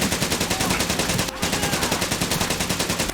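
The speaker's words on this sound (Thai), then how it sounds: "ความมันในการกราดยิงไง" Rapid submachine gun spray fire in the World War II shooter Medal of Honor: Pacific Assault, a loud continuous stream of evenly spaced shots with one brief break near the middle.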